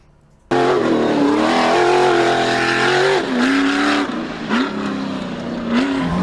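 An Ultra4 off-road race car drives hard, its engine roaring loud and close with sustained revving that rises and dips through gear changes, plus brief surges near the end; no voices.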